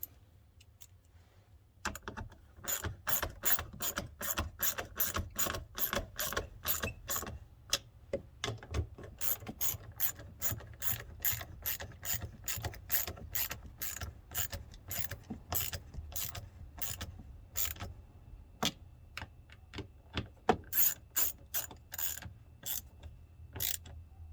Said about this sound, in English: now we're gonna tighten it down